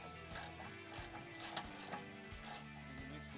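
A ratchet clicks in short bursts while loosening the lower brake caliper bolt on a Mercedes C-Class W204, the quick pawl ticks close and distinct, repeating in several strokes with brief pauses.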